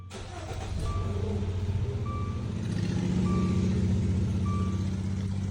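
A Dodge Dart engine starts and settles into a low, steady idle that builds slightly in loudness, while a faint regular chime beeps about once a second over it.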